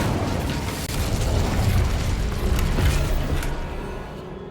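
Incendio fire spell cast in Hogwarts Legacy, a sustained roaring, crackling burst of flame with a booming quality, loud and steady for several seconds without any voices.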